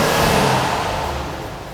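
A short burst of Maserati Levante Modena engine revving through two exhaust pipes, a loud broad roar that gradually eases off.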